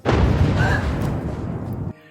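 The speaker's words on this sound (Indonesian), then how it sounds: "terjadi lagi sebuah ledakan di udara" A loud, booming explosion rolls out and rumbles for about two seconds before cutting off abruptly.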